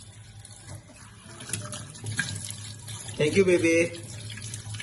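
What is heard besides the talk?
washing dishes under a running tap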